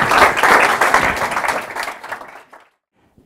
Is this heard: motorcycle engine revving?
no